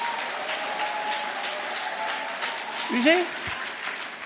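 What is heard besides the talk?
congregation applause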